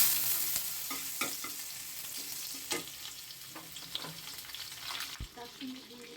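Crushed garlic sizzles in a little oil for a low-spice eggplant bharta. A soft, steady frying hiss runs throughout, with intermittent light stirring scrapes close by.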